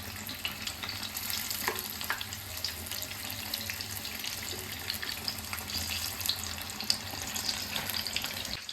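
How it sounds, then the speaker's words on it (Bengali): Bombay chili pakoras frying four at a time in hot oil, a continuous close sizzle with a bright bubbling hiss and occasional clinks as they are turned, no voices. "চারটে চারটে করে ভেজে নেব। এবার এক এক করে একটু পাল্টি করে দিচ্ছি।"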